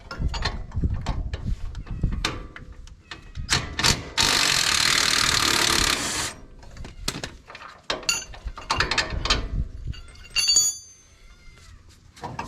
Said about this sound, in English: you're going to need a 3/4 inch socket and wrench to remove your shock mount